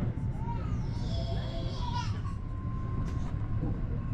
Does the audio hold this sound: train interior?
yes